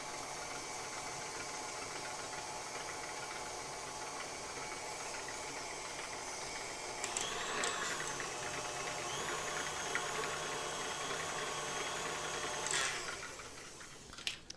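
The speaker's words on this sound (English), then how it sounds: "let's whisk this a little longer, make sure it's actually staying down. We'll whisk on a higher speed." An electric mixer whisks chocolate chip cookie batter in a steady whirring drone that climbs in pitch and strength partway through as the speed goes up, with brief rattles of the beaters against the bowl and no talk.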